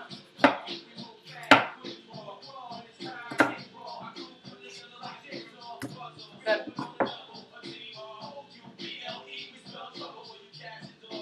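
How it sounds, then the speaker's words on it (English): A knife cuts mango flesh away for a fruit pie, landing in irregular dull thumps and scrapes on a board, with a few sharp louder hits, while a voice talks in between. "getting the mango meat off"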